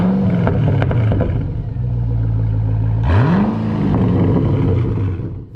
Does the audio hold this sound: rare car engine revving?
yes